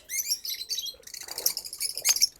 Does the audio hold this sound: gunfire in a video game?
no